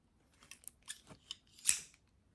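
A few crisp snips of scissors, spaced irregularly and ending in one louder cut, close by and otherwise quiet.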